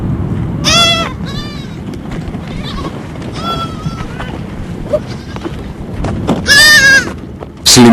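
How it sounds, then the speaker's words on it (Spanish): A small herd of goats bleats in several loud, quavering cries near the start and again toward the end, over gusting wind noise and a steady outdoor rumble. "un minúsculo rebaño de cabras del que se ocupan sus dos hijos"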